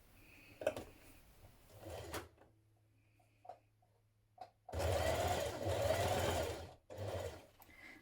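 A home sewing machine stitches shirtdress pockets, running in two close, steady whirring bursts after a few soft clicks of handling, with no talk.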